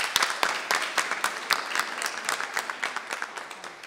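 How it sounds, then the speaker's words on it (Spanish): A crowd at a dance event applauds steadily, many hands clapping in a dense patter with a few louder claps standing out, fairly close. "También un fuerte aplauso para la profe."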